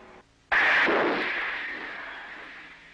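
A submarine torpedo launch during a training exercise bursts out as a sudden loud whooshing blast that slowly fades over a couple of seconds, heard in old archival sound.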